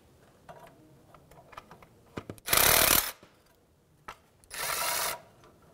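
Ratchet and swivel socket adapter being separated during a neutral safety switch replacement on a 2003-2011 Honda Element, heard as two loud, bright bursts of metallic ratcheting and clicking amid a few small taps, close up with no talk.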